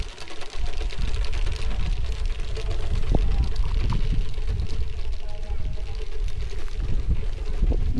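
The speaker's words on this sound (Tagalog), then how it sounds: "Lakas ng hangin." Powerful wind sweeping through a farm garden in Magalang, Pampanga, producing a sustained rumbling roar with gusting surges on the microphone while a person talks over it.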